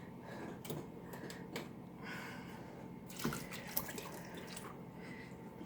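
Water trickling and dripping into a pot of chokecherries being cooked at a medium boil in a kitchen, soft close splashes and drips with a few louder clinks.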